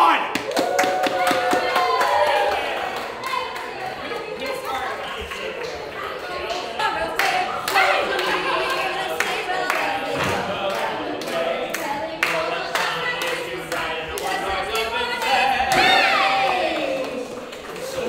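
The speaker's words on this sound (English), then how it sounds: "Applaud!" Audience members clap at a Grinch character breakfast, a busy, uneven patter of hands that runs throughout, mixed with scattered taps, clinks and murmuring crowd noise in an indoor dining room.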